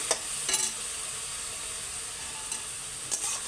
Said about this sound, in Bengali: এটা দিয়ে আমি একটু নাড়াচাড়া করি।